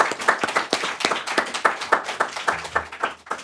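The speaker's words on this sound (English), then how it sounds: "they deserve a quick round of applause and appreciation" Small round of clapping from an audience at a presentation on nuclear energy in the United States, a handful of distinct close hand claps at an uneven rhythm, fairly loud, with a low hum entering midway.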